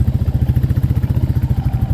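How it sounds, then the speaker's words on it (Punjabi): Motorcycle ridden over a rain-damaged, pothole-filled road, its mid-pitched engine thumping in a steady rapid rhythm with clattering jolts, close and loud throughout, no talk. "ਤੁਸੀਂ ਵੇਖ ਹੀ ਰਹੇ ਹੋ ਲਓ ਜੀ ਉਹ ਤੁਹਾਡੀ ਜੰਪ ਲੱਗ ਰਿਹਾ ਮੋਟਰਸਾਈਕਲ ਤੇ"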